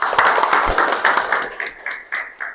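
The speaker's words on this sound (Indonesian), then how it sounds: "Beri aplaus untuk teman-teman." Classmates give a short round of applause in a classroom lesson, a dense patter of many hands clapping steadily for a couple of seconds before thinning out.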